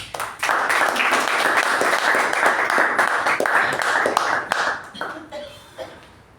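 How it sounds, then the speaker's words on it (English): A Toastmasters club meeting audience gives a round of applause for the Toastmaster of the evening, with full, steady clapping throughout that tapers off near the end. "Let's give a huge round of applause for Toastmaster Raja."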